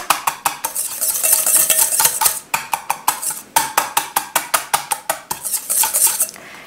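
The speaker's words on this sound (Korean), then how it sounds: "좀 거품기를 좀 저어주세요. 부드럽게 좀 저어주신 다음에" Butter whisked in a bowl for chocolate chip cookie mix makes rapid, rhythmic metallic clicks of a wire whisk striking the bowl, loud and close, running steadily in quick strokes with brief pauses.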